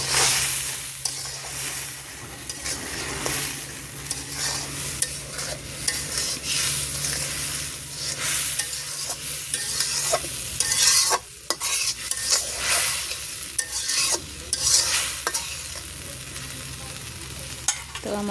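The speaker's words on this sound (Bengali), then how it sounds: "এখন আমি মশলাটা ভালোভাবে কষিয়ে নেব।" Spice masala of ground coriander, cumin and mixed spices stirred and fried in a pan, a steady sizzle and hiss with repeated scraping stir strokes, close and continuous, no voices.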